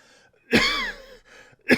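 A throat clearing followed by a short cough, then another brief cough burst at the end, close and fairly loud with quiet gaps between.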